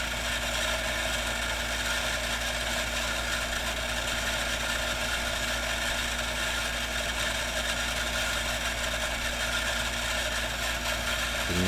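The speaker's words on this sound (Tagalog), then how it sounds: "Motor ng water pump." A motor-driven water pump runs continuously, producing a loud, unbroken mechanical hum with a faint rattling texture and no voices over it.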